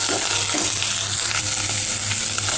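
Green peas frying in oil for samosa filling, a loud, dense, continuous sizzle with faint stirring scrapes, close up and without speech.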